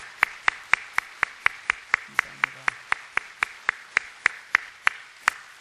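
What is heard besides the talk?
congregation applauding in welcome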